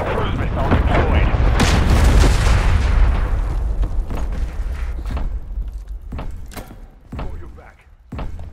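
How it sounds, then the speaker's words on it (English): A cruise missile strike in the video game Modern Warfare 3 lands as a loud, rumbling explosion that swells and then slowly fades, followed by scattered sharp gunfire and impacts. "Friendly cruise missile deployed."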